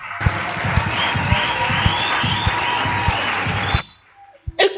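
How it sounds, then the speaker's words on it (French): Church congregation claps together during a sermon, strong rhythmic hand claps over a sustained roar for nearly four seconds, then cutting off into near silence before a brief sound at the end. "Applaudissons fort."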